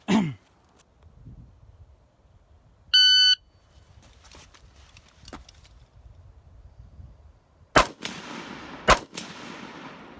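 Gunshots fired from a prone position: two sharp, loud reports near the end, each followed by ringing decay, with an earlier distant crack, a brief electronic timer beep and faint rustling between.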